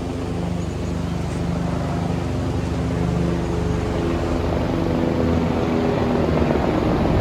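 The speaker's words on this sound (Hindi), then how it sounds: "हेलीकॉप्टर सर्विस भी यहाँ पे है।" Helicopter flying near Sonprayag on the Kedarnath pilgrimage route in the Himalayas, its rotor a steady, fairly loud drone that holds throughout with a rough chopping texture and no talk over it.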